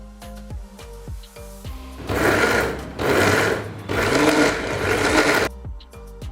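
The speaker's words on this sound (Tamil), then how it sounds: "இதை மிக்சர் ஜாரில் போட்டு அரைக்க போகிறேன்." An electric mixer grinder grinds sautéed onions, whirring loudly in several bursts of a few seconds each, with clicks and short pauses between runs.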